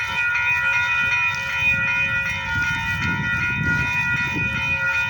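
Freight trains roll past, two on the line heading the same direction, making a continuous loud rumble with a steady, sustained high wheel squeal ringing over it.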